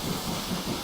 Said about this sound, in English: Steam valve going on.